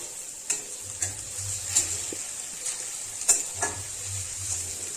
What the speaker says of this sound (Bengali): সেজন্য অল্প মশলাতেই ভালোভাবে কষিয়ে নেব ভিন্ডির সঙ্গে মশলাগুলো